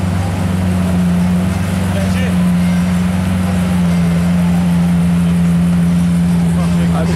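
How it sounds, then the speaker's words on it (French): A Lamborghini Aventador 50th anniversary edition idles just after starting on a street in Cannes, a steady loud low drone that holds even throughout. "Aventador 50e anniversaire qui vient de démarrer."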